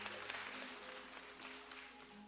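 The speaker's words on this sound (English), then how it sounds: "Let's give him another hand clap of praise." A church congregation applauds steadily at a Sunday service, a broad wash of hand claps that fills the whole moment without pause, with faint tonal hum and murmur beneath.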